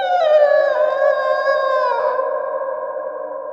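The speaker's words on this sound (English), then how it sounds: "A piercing wail interrupted my thoughts." A piercing, sustained wail with a rich harmonic, howl-like tone, loud and alone, drifting slightly in pitch and dropping lower partway through before trailing on.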